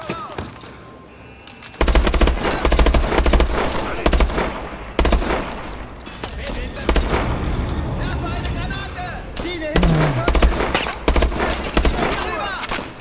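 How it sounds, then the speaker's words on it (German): Sustained automatic gunfire and explosive bursts from the video game Call of Duty: Advanced Warfare, loud and dense in long volleys with brief pauses, a voice talking over the battle. "Und eigentlich kann ich ein ganzes Magazin darüber ballern."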